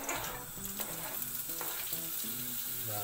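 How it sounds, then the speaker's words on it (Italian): Guanciale frying with garlic in oil in a pan for carbonara makes a close, continuous sizzle with crackling and occasional stirring scrapes, with no talk. "Devo mettere il guanciale a soffriggere con l'aglio e l'olio."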